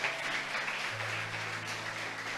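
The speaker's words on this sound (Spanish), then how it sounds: "Alguien le aplaude a Dios por esto" A church congregation applauds at a Spanish-language sermon, a steady, dense wash of clapping from many hands that fills the room at full volume.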